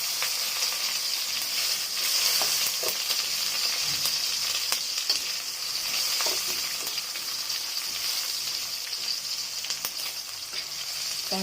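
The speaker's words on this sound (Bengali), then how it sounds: "আমগুলোকে এবার একটু উল্টে পাল্টে ভেজে নেবো।" Mango pieces fry in hot mustard oil with mustard seeds and dried chillies, giving a continuous busy sizzle with light crackles and the occasional scrape of stirring. No one speaks.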